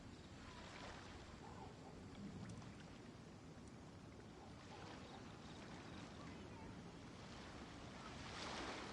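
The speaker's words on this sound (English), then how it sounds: "The sound of the ocean" Ocean waves in the Genshin video game, a broad, steady wash of surf with gentle swells and some wind-like hiss, moderately loud and continuous with no talk.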